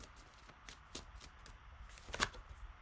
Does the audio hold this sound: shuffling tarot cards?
yes